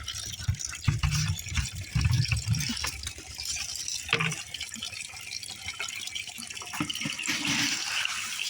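Water poured out to give drink to ducks and pigeons, a steady splashing and trickling flow that runs for several seconds with brief handling knocks, heard close and fairly loud.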